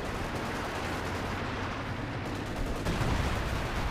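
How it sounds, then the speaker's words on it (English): Howitzer artillery fire in Company of Heroes 2 battle, a steady barrage of booms and explosions over constant gunfire, with a heavier impact near the end, dense and loud throughout. "A lot of howitzer fire just running down now."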